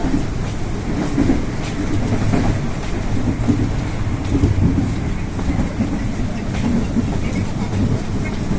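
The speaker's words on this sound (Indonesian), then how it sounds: "Nih, pokoknya kalau tanda kayak gini ini kereta yang pernah dinaikin Pak Prabowo ya" A Chinese-built commuter train running between Duren Kalibata and Bogor stations in Indonesia, heard from inside the carriage: a steady, even rumble of wheels and car noise that continues without a break.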